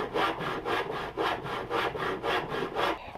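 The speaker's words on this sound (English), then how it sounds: "make up the tool with this washer that we can run along the lines and collapse, so we can collapse the Corflute stuff" A homemade washer tool scrapes along the fluted lines of a Corflute corrugated plastic sheet in steady back-and-forth strokes, about seven rasping passes in a regular rhythm, close and fairly loud with no talking.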